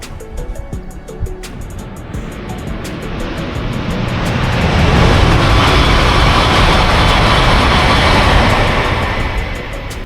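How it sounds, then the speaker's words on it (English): A loud rushing roar swells over several seconds and then eases as a high-speed train sweeps past nearby in Shenzhen, China, with a brief ticking at the start. "The high-speed train moves so fast."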